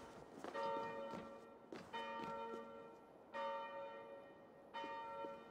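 A church bell in Assassin's Creed Valhalla tolls four times at even intervals, each strike ringing out with a long, fading metallic hum, heard alone and moderately close.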